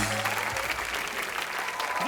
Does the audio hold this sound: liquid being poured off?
no